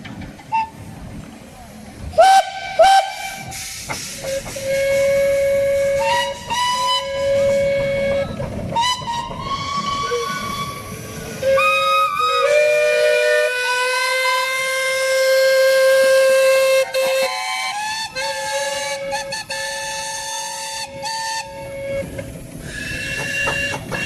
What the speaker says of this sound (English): the traction engines here, Castle Combe Steam Rally